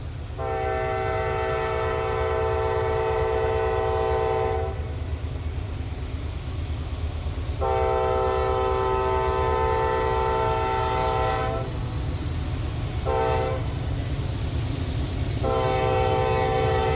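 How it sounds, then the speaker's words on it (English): A loud diesel locomotive horn sounds in a pattern of two long blasts, a short one, and another long blast, with steady rumbling rail noise underneath. "represented two longs, a short, and a long for a blast of the whistle or horn"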